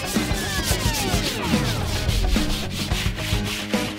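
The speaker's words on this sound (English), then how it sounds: "Now a little sanding will whip this block into shape." Rhythmic rasping strokes of sandpaper rubbing a foam block, close and fairly loud, repeating at a quick even pace.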